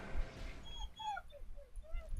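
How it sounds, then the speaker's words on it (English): A dog gives a run of high, wavering whimpers and yips, close and fairly faint, over soft background rustle and murmuring. "Get off my butt, dog!"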